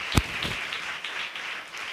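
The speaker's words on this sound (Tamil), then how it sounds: "நல்ல கைத்தட்டி ஆண்டவருக்கு நன்றி சொல்லுங்களேன்" Congregation at a church service claps hands in thanks to God: a sharp burst of applause, then a steady patter of many hands at moderate distance.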